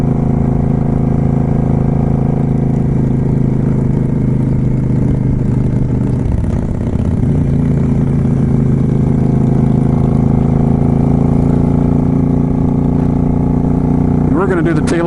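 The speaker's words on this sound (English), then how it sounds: "It's really great riding in this group of motorcyclists and just hearing the engines" A group of motorcycles rides along the Blue Ridge Parkway, their engines giving a steady, close, droning hum with low harmonic tones and a rise in revs near the end.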